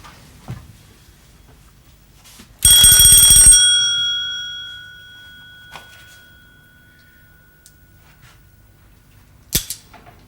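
A bell rings once on a shooting range, a loud metallic strike with a ringing tone that decays over about two seconds, followed by quiet and a sharp click or shot near the end.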